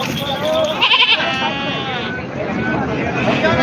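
Goats bleat at the busy weekly Khandoba goat market in Parbhani, Maharashtra. Several wavering cries rise over close talk and crowd babble, with one clear bleat near the middle and more after.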